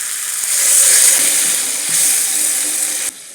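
Water poured into a pan of fried pumpkin and potato, a steady loud rushing splash and sizzle lasting about three seconds before cutting off.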